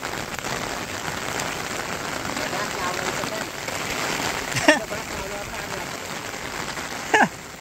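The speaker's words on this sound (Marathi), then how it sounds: "आणि इकडं एकदम जोरात पाऊस आहे" Heavy rain pours down steadily near a farm hut in a village, a dense, continuous hiss with a couple of brief louder knocks near the end.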